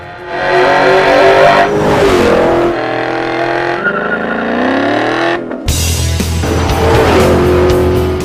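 A 2011 Ford Mustang GT fitted with a Borla exhaust revs hard and loud up close, its engine note climbing and falling in long sweeps, then dropping to a deep burble before a sharp, aggressive final blast; no talking.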